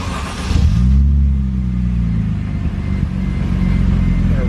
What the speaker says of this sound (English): So let's get a quick sound clip, start it up cold, see what it sounds like.